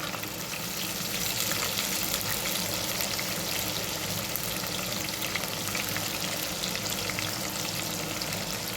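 Shallots frying in hot oil for a village-style dried-fish curry with black chickpeas, giving a steady, close, loud sizzle with faint stirring throughout and no talk.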